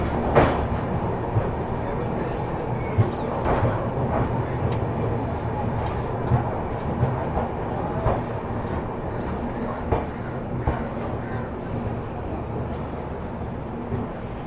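Champaran Humsafar Express pulling out on a 15-hour-delayed departure, a steady rumble heard from on board with periodic wheel clacks over rail joints throughout.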